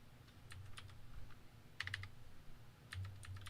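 Keys on a computer keyboard are tapped in short bursts of quick clicks separated by pauses, near and fairly quiet, with a low hum underneath and no voices.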